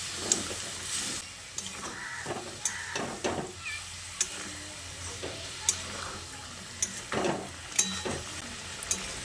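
Chicken in a pan with a little water just added, stirred and scraped with a spoon in irregular clinks and scrapes over a low simmering sizzle, close and moderate, no voices.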